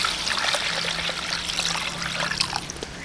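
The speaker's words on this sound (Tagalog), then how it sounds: "Lalagay tayo ng tubig." Water poured steadily into a pot of beef for a stew, a continuous trickling splash heard up close and alone.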